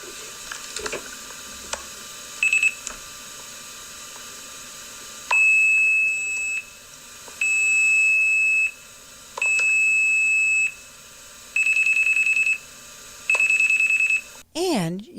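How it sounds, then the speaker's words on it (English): Phone phreaking tones that allowed free phone calls play as a series of steady, high-pitched electronic beeps in evenly spaced bursts over a faint background hum, ending in a quick warbling sweep. "imagining what specific tones sounded like that allowed millions of people to make free phone calls"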